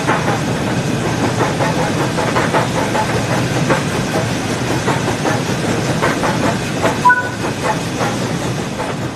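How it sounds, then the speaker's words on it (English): The Flying Scotsman steam locomotive moving in Train Sim World 6, a steady rumbling chuff and rhythmic clatter of wheels, loud and continuous with a brief high squeal near the end. "Now that the locomotive is moving"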